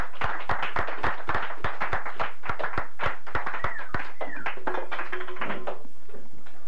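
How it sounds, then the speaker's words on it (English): A studio audience on a 1991 talk show claps in sharp, distinct hand claps at first, loud and rhythmic, then thins out as voices talk over the tail end. "Let's all welcome with a big round of applause Mr."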